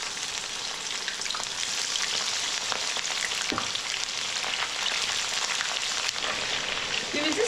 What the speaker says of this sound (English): Now we will just shallow fry the cauliflower to just give a color.